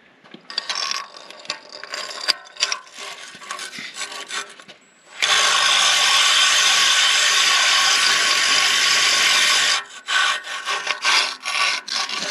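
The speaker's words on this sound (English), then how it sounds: "I'm gonna take my hone and just run it around in there just to clean them up just a little bit" A cylinder hone spins and scrapes inside a steel sleeve of a 1939 Caterpillar D4 diesel engine, with short rasping passes, then one long steady grinding run of about five seconds, then more short strokes, close and loud.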